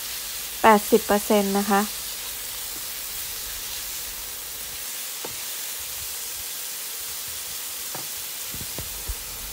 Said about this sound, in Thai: ผัดให้หมูสุกประมาณสัก